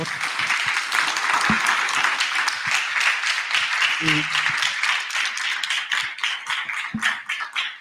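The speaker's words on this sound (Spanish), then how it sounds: "les damos un fuerte aplauso al doctor Medrano." An audience claps for a lecturer after a talk on marine mammals, with sustained applause that begins to thin toward the end while a few voices speak briefly underneath.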